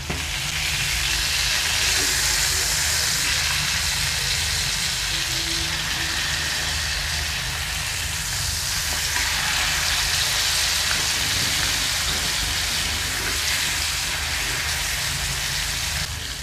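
Fish wrapped in banana leaf, Kerala-style meen polichathu, frying in a pan, giving a steady, dense sizzle that holds evenly throughout with no talking.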